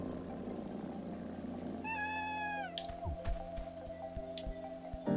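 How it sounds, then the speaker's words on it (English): Cat in Celeste giving a clear, drawn-out meow that slides downward, followed by soft ticking and drip-like game sounds over a low background hum. "Pet the cat!"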